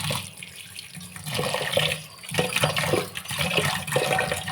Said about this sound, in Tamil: நல்லா அலசி நாலஞ்சு டைமு க்ளீன் பண்ணி எடுக்கணும்